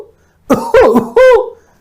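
A voice imitates the cough of croup (whooping cough): several harsh, bursting coughs in quick succession, ending in a drawn-out whooping intake, close and loud.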